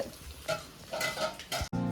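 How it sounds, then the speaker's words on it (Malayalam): Prawn curry stirred and frying in a pan, with a steady sizzle broken by several scraping stir strokes and a brief dropout near the end; close and fairly loud, with no talking. "കൊഞ്ച് കറി നല്ല വറുത്തത് ഇവിടെ റെഡി ആവുന്നുണ്ട്"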